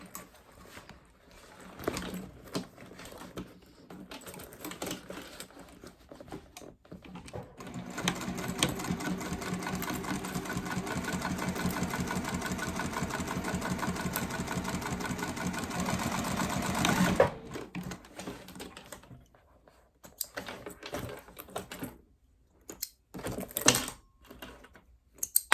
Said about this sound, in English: then just stitch it like normal